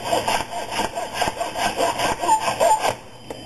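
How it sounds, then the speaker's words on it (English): A hand saw cuts at an angle through wood for a model plane's nose, making quick rhythmic rasping strokes up close that run steadily, then stop near the end. "As you can see, this saw makes nice work of it."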